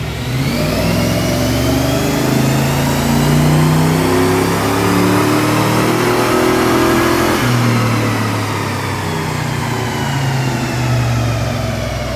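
Fuel-injected 302 V8 in a 1986 Ford Mustang on a dyno, loud and close as it winds steadily up toward 5,000 RPM in one long pull, then drops off sharply near the end, with no talking.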